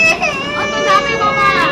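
A young child cries close by, with a loud, wavering wail that rises and falls in pitch without pause.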